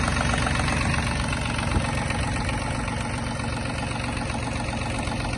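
The engine of a Yanmar RS-24 Japanese mini tractor idles with a steady, even, rough drone that holds at constant loudness throughout, close by and with no talk.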